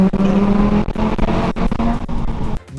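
A Volkswagen Rabbit 2.5 five-cylinder engine snarls loudly and close, revving in uneven surges with brief dips between pulls, no voices heard.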